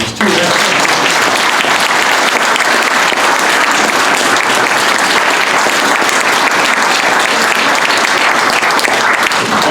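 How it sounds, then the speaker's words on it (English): A loud, sustained round of applause from the audience at a judicial forum, with dense, continuous clapping from many hands holding steady throughout, close and full. "I'd like to invite all of you to join in a round of applause for these two excellent."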